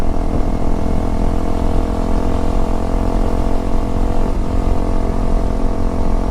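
Motorcycle engine on a 300L fitted with a CBR intake and Uni filter, pulling hard in 4th gear around 5,000 rpm, a loud close-up drone that holds steady throughout.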